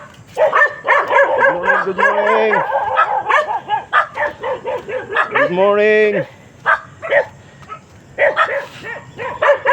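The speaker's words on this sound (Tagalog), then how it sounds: "May aso pa rito." Dogs bark and yelp nearby, with a couple of drawn-out whining howls, while a person greets others in the middle of it.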